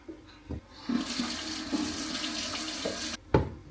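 Rice or lentils are rinsed in a strainer under a running kitchen tap, a steady close rush of water between a few knocks and clunks of the strainer at the start and end.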